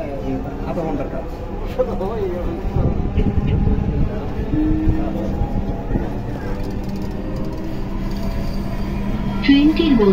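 A Dhaka metro rail train running, heard from inside the carriage as a steady low rumble and rolling noise that fills the whole stretch, with a faint tonal whine near the end. People talk over it.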